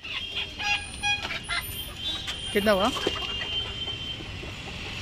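Live local chickens cluck and squawk at a busy market stall, with a rooster-like call rising midway, while people bargain and talk nearby.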